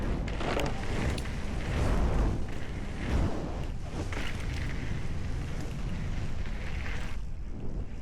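Strong wind buffets an outdoor microphone on a ride near Kálnica, a continuous loud rumbling roar with gusty swells and no speech.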